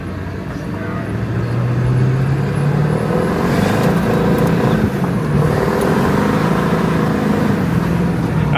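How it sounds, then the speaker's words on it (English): Military truck revving hard with tires spinning and roaring against the ground, a loud continuous engine drone rising in pitch, close and steady throughout with a faint voice underneath. "you were just roasting tires"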